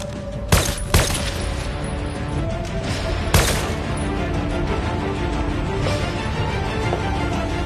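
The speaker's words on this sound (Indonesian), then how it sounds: "Sang Hyuk tiba-tiba berada di sana dan menembaki semua orang" Sharp gunshots crack out in a Korean drama scene as a man opens fire on everyone: a few loud, separated bursts over a steady ambient bed, with no talking.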